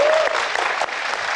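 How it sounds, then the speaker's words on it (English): Audience applause at a Portland Retro Gaming Expo panel: a short, dense burst of clapping from a crowd, fairly loud and steady, with a brief tone at the start. "can we just get a round of applause for these two?"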